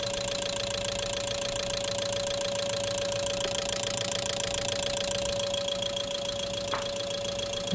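A fuel injector test bench, running injectors from a Peugeot 206 three-cylinder at a simulated 1000 RPM, gives a steady, dense mechanical ticking and whirring with a constant tonal hum, loud and unbroken throughout with no talking.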